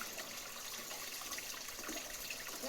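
Water poured out at close range in a domestic setting, a continuous splashing gush and trickle that runs steadily and fairly quietly with no talking.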